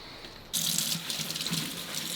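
Tap water starts suddenly and keeps running steadily as kale leaves are rinsed under the faucet at a kitchen sink, close and fairly loud with faint splashing variations, no talking.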